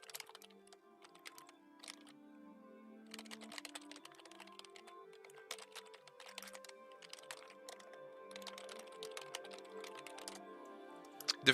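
Someone typing on a computer keyboard, with quick bursts of clicking keystrokes broken by short pauses, steady and close over a faint tonal background.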